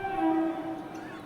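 A train horn sounds as a steady tonal blast that holds for about a second and then fades, with no talk over it.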